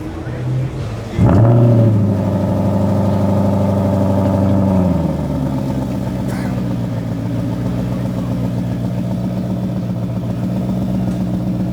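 A 2025 Ford Mustang GTD engine on display revs up hard with a loud rising roar, holds for a few seconds, then drops to a steady, burbling idle that continues to the end.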